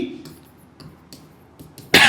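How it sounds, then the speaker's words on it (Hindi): Quiet room tone with a few soft clicks, then a single sharp, close cough bursts out at the end. "खांसी हो गई"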